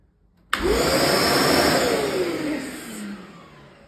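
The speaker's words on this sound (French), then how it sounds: "et que j'allume mon aspirateur" A household vacuum cleaner switches on abruptly and runs close by with a loud, steady whooshing roar, its motor pitch rising then sinking gradually as it keeps running, with no voices.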